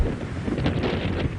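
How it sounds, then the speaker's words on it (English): Steady wind gusting across an outdoor cricket ground during a T20 club match, a continuous broadband rush with soft rumbling buffets on the microphone, fairly loud and without speech. "Wind just starting to pick up now."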